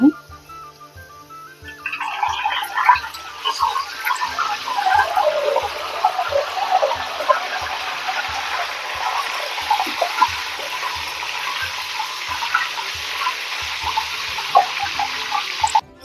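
After a short quiet start, water runs steadily and splashes for a long stretch, close and even, with faint ticking underneath.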